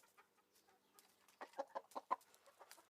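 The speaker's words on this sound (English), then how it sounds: "And hen." A hen clucks in a run of short, irregular pulses that grow louder toward the middle, with one brighter peak, then thin out and fade, with no voices present.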